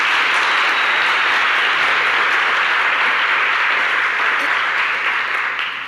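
Church congregation giving a strong round of applause, dense sustained clapping from a large crowd that fills the room and fades slightly at the end.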